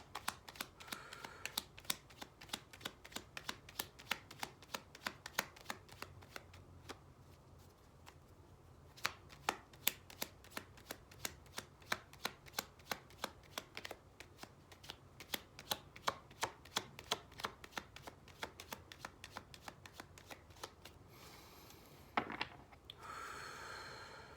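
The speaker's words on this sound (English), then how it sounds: "Let's get a few cards from the Psychic Tarot." Psychic Tarot cards being shuffled by hand, a long quick run of crisp rhythmic card flicks and snaps, close and fairly quiet with short pauses and a rustle near the end, no talking.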